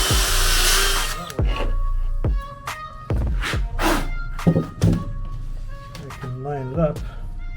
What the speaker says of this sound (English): So I'm just gonna drill this hole out of here first.